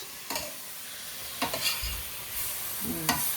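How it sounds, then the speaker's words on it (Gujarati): A spatula stirs and scrapes a pan where something is roasting in ghee for a halwa-like dessert, with a few sparse scraping strokes over a soft, steady sizzle and no talking. "ઘીમાં શેકી નાખીએ થોડી"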